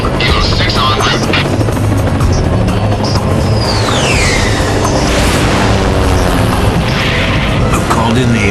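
In an X-Men 2: Wolverine's Revenge cutscene, an aircraft roars overhead with heavy rotor thrum and a sweeping pass, mixed with booming impacts, loud and continuous.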